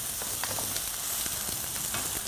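Peppers, tomatoes and parsley for lecsó frying in a pan, a steady close hiss of sizzling oil with scattered pops and small stirring clicks, no talk.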